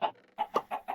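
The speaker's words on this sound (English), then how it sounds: "Let's check on the chickens" Chickens cluck in a farming video game, a handful of short, close, abrupt clucks in quick uneven bursts, with no talking.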